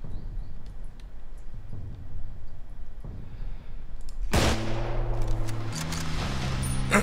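A single loud sniper rifle shot in the Contagion game cracks out sharply midway through, ringing on afterward, preceded by quieter footsteps and game sounds.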